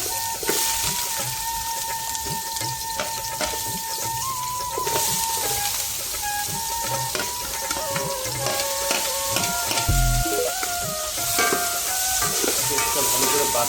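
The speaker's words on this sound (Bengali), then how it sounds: "আমরা দেখব তেলটা গরম হয়েছে কিনা। আমরা পেঁয়াজটা দিয়ে নিব," Chopped onion sizzles and fries in hot oil with a steady crackling hiss, stirred now and then, while bird calls chirp in the background.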